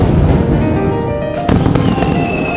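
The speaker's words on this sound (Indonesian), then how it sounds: "kembang api pun petasan dinyalakan di mana-mana di sudut kota Chang'an" Fireworks and firecrackers go off across the city of Chang'an during a royal celebration, a dense continuous crackle with a sharper burst of pops midway.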